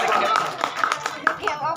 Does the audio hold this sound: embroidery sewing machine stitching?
no